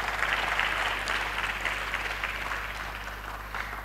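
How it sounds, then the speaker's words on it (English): Audience at an alumni lecture gives a steady, dense round of applause, a continuous wash of many hands clapping that holds at an even level throughout without any speech. "I think she deserves a round of applause"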